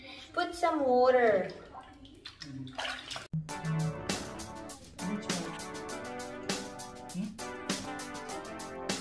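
Water runs into a hotel bathtub in Dubai with a steady splashing rush. Voices talk and a woman hums tunefully over it, close by.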